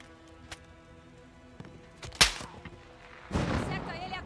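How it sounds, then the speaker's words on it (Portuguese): Gunfire echoing from a road in Call of Duty: Modern Warfare (2019), with a few sharp shots and bursts spread over a few seconds, one loud crack standing out among fainter distant reports and battlefield rumble. "Os tiros estão vindo da estrada."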